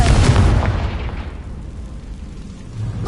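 A Confringo fire-blasting spell bursts in Hogwarts Legacy with a loud, close boom that rolls into a fading, rumbling tail before a faint second thump arrives at the end.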